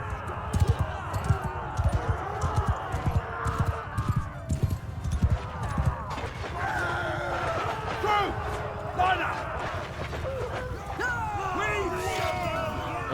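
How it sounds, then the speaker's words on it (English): Horse hooves clopping and stomping in Mount & Blade 2: Bannerlord during a battle, a rapid, rhythmic run of hoofbeats over the hubbub of a fighting crowd and clashing noise, fairly close and steady throughout. "Let's stomp over him with our horse"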